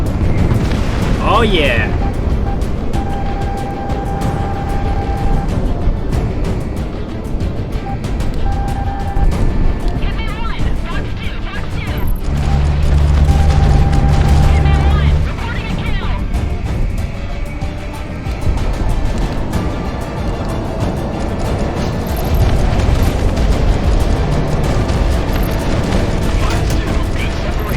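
Deep rumbling booms of bombs going off in the game Project Wingman, rolling continuously under steady engine and combat noise, with a player's short exclamation near the start.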